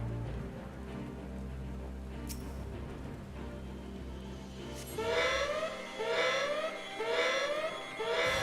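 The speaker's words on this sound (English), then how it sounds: "I've set off an alarm." An alarm goes off in Final Fantasy XIV: after a quiet stretch of game ambience, a repeating rising wail pulses about once per second, clear and fairly loud.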